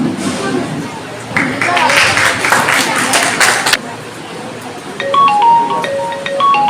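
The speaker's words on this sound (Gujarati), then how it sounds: "પણ આપણે તાળીઓ પાડીને પણ સન્માન." An audience at a student award ceremony, the 31st Saraswati Sanman event in Chalala, breaks into a loud burst of clapping lasting a few seconds between stretches of amplified talk.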